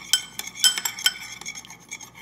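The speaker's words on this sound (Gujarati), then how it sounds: "થોડું ઓઇલ અને થોડું હલાવી નાખશું." A spoon scrapes and clinks against a bowl while oil is stirred into a lentil and quinoa salad, giving a handful of sharp, close metallic taps in an uneven rhythm.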